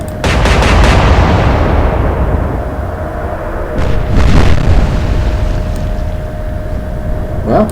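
Warship main guns fire a salvo in the World War II naval game Atlantic Fleet: a close, loud opening boom with rumbling decay, followed a few seconds later by a second cluster of heavy thuds and a fading low roar.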